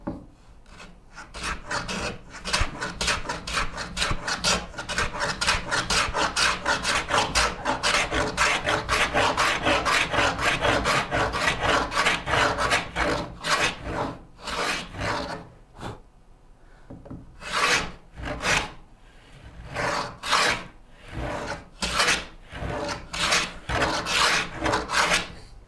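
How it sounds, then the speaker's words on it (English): A hand plane shaves wood for a Shaker Enfield cabinet, with long rasping strokes packed in a rapid steady rhythm, then sparser separate passes toward the end, close and clear with no voices. "now we know we're planing toward the back"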